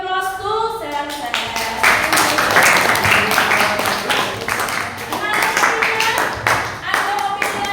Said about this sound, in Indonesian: give applause to Serset